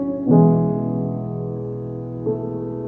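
Sustained piano chords from Logic's built-in instruments ring over a low bass line, a fresh chord struck near the start and another near the end, with no percussion.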